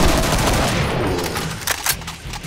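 Rapid gunfire from the Project Brutality Doom mod, a dense burst of overlapping shots with a few sharper cracks toward the end, loud and close with no talking.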